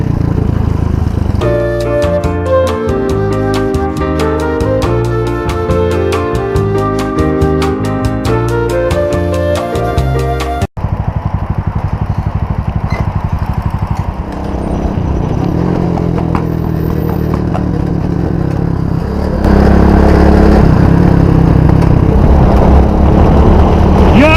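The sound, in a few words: cafe racer motorcycle riding in traffic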